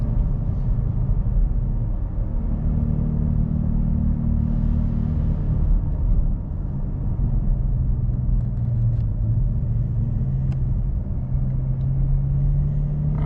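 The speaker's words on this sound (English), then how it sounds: "I like to just let off, do some downshifts, and let the car primarily stop itself." An automatic car being manually downshifted as it coasts off the gas, its engine rumbling steadily with a low drone that shifts in pitch as the gears drop, continuous and fairly close inside the cabin.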